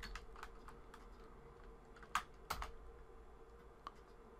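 Faint keystrokes on a computer keyboard, a few scattered taps and a couple of sharper clicks, heard close over a low steady background hum.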